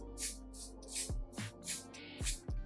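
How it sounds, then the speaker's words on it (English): Lace wig hold spray sprayed near the hairline in quick bursts, six or so short close hissing puffs with small clicks of the nozzle between them, quiet overall. "I'm gonna just spray it right in front of my hairline."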